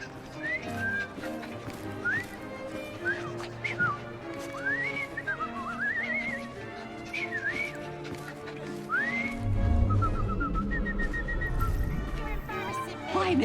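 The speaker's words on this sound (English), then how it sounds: "I've just learned to whistle." A character in Assassin's Creed Syndicate whistles a string of short rising and sliding notes over background game ambience, with a louder low thump near the end and no talk.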